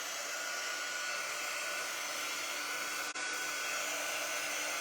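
A hair dryer blows steadily and loudly to dry a craft project, its constant rushing drone filling the whole stretch with only a brief dip near the end.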